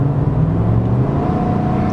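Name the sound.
lifted pickup truck revving with loud aftermarket exhaust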